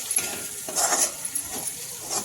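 Turmeric being stirred into a pan of sushila, the puffed-rice dish, with tomato, onion and chilli. A spoon scrapes and clinks against the pan in a few short strokes over a light sizzle, close by.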